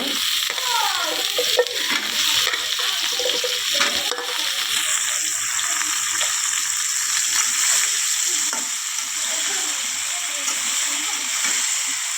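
Eggplant goes into hot oil in a pan for a thin boal fish curry, giving a loud, sustained hissing sizzle with occasional stirring scrapes and no speech.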